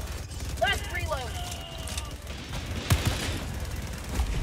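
Gunfire in Helldivers 2 during a fight with Automatons, sporadic shots and mechanical clatter under game voices, with a louder sharp burst near the middle.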